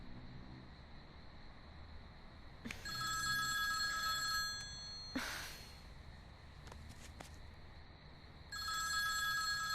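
A telephone rings in bright electronic bursts, two ringing spells separated by a pause, with a brief clatter and faint background noise between.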